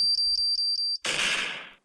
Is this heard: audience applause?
no